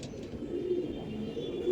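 Pigeons in a loft give low, soft coos, a couple of brief rolling calls rising from a quiet indoor hum.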